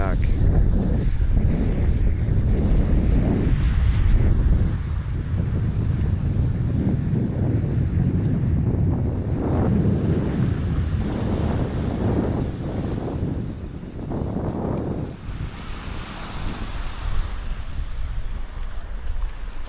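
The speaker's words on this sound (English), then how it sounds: "listening to the waves, walking on the beach" Ocean waves wash onto a beach at Playa del Carmen in steady, loud wind, with continuous surf roar and strong wind rumble buffeting the microphone throughout.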